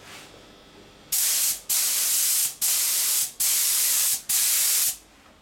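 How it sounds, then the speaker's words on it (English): Sprayer spraying coating onto glass and metal sheet, heard as five loud, close hissing bursts of about half a second to a second each, separated by brief pauses. "And this is the sprayer. Now we're gonna put some coating into."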